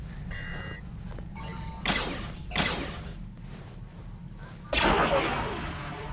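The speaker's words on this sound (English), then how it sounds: "Firing all of our main cannons." Heavy booming spaceship cannon blasts hit in a sequence of three, each a sharp loud crack trailing into rumble, with faint electronic beeps between shots.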